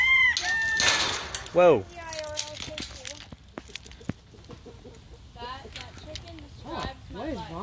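A molting rooster at a zoo clucks and gives short crowing calls close by, mixed with children's voices, exclamations and some crinkling noise.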